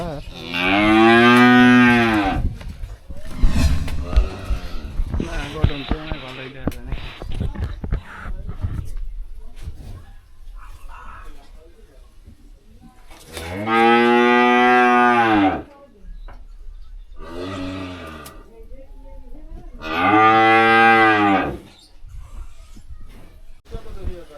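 Sacrificial cattle bought for Eid at a rural Bangladeshi home, lowing in three long, loud, close moos spread across the stretch, with people talking and handling noise in the gaps between calls.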